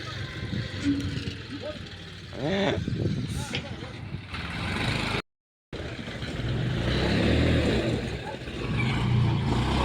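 A tractor engine rumbles and revs nearby through most of the stretch, its low throb running under frequent talk from people close by, with a brief dropout partway through.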